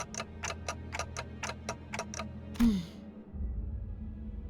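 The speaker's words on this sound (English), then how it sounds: "It's ticking faster, so I guess they can still feel pain." A clock ticks steadily in the video game Limbus Company, about ten crisp, evenly spaced ticks up close, then a sharp impact cuts them off and a low rumble follows.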